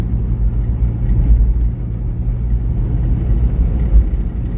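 A 1963 Studebaker Champ truck engine runs steadily while driving, a close, continuous low rumble with mild surges and no voices over it.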